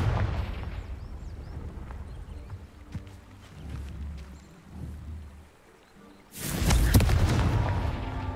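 A Confringo blasting spell explodes against crumbling rocks by a ruined tower in Hogwarts Legacy, a sudden loud boom with a broad burst that rings on and slowly fades, after quieter rumbling ambience.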